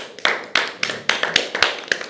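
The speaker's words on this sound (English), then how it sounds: "Round of applause, player number 3." Several sharp claps spaced unevenly at close range, a short round of applause for a player at a Dublin Open World Cup qualifier, with no talk.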